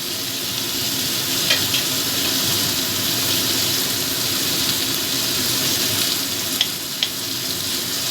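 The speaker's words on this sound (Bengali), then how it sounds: "এবার আমি এর মধ্যে দিয়ে দেব কুচিয়ে রাখা টমেটোগুলো" Chopped tomatoes frying in a pan with softened onions for prawn do pyaza, giving a loud, steady, broad sizzle with a few faint clinks of stirring, no voices.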